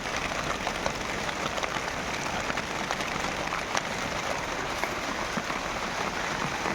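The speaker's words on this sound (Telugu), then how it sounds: "మా ఏరియా సైడ్ వచ్చేసి మూడు రోజుల నుండి భారీ నుండి అతి భారీ వర్షాలు అనేవి పడుతున్నాయి" Heavy rain pours steadily outdoors on a chilli farm, a dense, continuous wash of patter on surfaces, loud and unbroken throughout.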